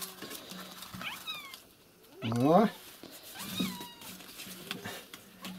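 Kittens meowing indoors, several short high mews and one louder drawn-out cry, close by, with someone talking over them.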